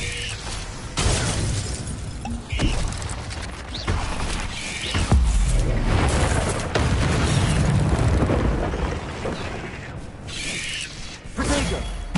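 Fiery spell blasts from a wizarding video game, cast as Incendio, come as repeated booming, crackling bursts over a dense rumbling, chaotic battle din lasting throughout.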